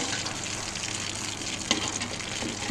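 Cut fish pieces frying in oil in a pan, giving a dense, steady sizzle with a couple of brief pops and scrapes.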